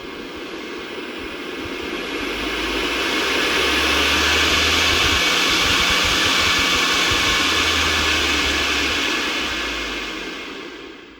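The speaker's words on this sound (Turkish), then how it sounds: "Fanımız bu şekilde sağlam bir şekilde çalışıyor." A Ferroli boiler fan spins up into a steady, loud airy whoosh that swells and holds, then tapers slightly near the end.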